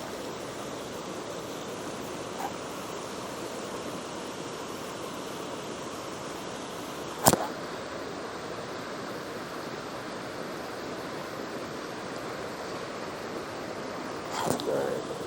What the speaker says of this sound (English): Get in the rapids down there.